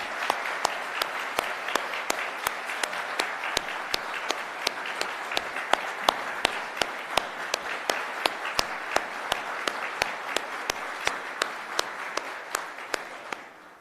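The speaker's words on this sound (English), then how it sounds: "Ladies and gentlemen, I think that's worthy of applause." Audience clapping steadily at a school board budget announcement, a sustained round of applause from a modest crowd with sharp individual claps standing out, moderately close and without talk.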